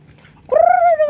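A single bird call, likely a turkey, sounds at an overnight campsite: a sudden, loud, wavering warble that starts partway in and holds for over half a second after a quiet lead-in.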